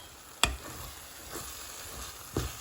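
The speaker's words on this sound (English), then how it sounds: "the spices needs to be sizzled and cooked before you add any liquid" Spices and toasted peanut powder sizzle faintly in a pan for a corn curry in peanut sauce, a soft steady hiss broken by two sharp clicks of a utensil.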